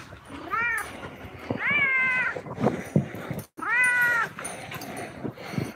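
A cat meows several times outdoors, long drawn-out wailing calls with a short pause between them, close and fairly loud over rustling background noise.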